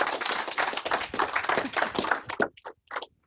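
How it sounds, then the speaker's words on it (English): A small group applauds a presenter at a corporate meeting, a brief burst of close, individually distinct claps that thins out into a few scattered final claps and then silence. "Let's give her a huge round of applause."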